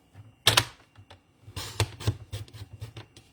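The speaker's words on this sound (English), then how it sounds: "the cutting is done. Set our trimmer aside." A paper trimmer slices card stock with a sharp click and slide, followed by a run of quick, light taps and clacks of the blade and paper being handled close by.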